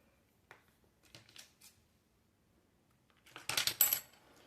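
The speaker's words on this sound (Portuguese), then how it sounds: "Cortar com a tesoura mesmo, que tá bem molinho ainda" Scissors snip through soft, freshly made polymer clay, trimming off small edges during a craft project; a few light, quiet snips come first, then a louder, closer cluster of crisp cuts toward the end.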